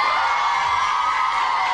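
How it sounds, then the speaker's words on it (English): Television game show studio audience responding at the end of a chase round, a dense continuous wash of crowd noise with cheering and whoops, steady and full throughout the short stretch. "Big round of applause, everybody."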